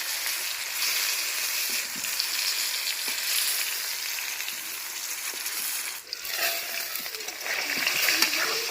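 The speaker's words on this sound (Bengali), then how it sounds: "আলুগুলোকে এবার আমি খুব ভালোভাবে লাল লাল করে ভেজে নেব।" Potatoes seasoned with salt and turmeric fry in hot oil, giving a continuous close sizzle with occasional soft clinks and stirring noises, while a faint voice talks in the background.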